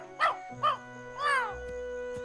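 A cartoon parrot barks like a dog: three short, clear yaps in close succession, near and moderately loud, over a soft musical background.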